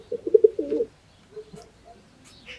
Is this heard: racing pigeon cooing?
yes